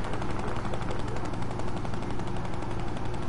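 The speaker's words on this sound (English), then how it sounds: "So much shooting and everything." Rapid, continuous automatic gunfire in Fortnite, a dense stream of evenly spaced shots at steady loudness with no pauses across the short stretch.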